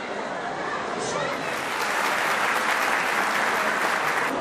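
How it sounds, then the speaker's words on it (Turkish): A crowd at a charity gala for disabled people applauds loudly and continuously, the clapping swelling slightly stronger toward the end. "Kotan'ı alkışlarınızla sahneye davet ediyorum"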